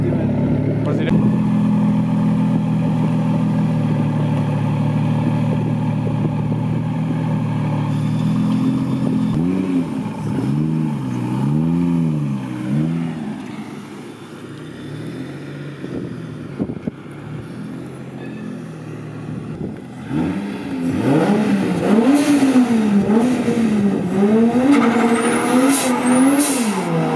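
A turbocharged 2JZ car engine, paired with a T56 gearbox, revs hard, its pitch surging up and down in repeated waves, loud and close throughout.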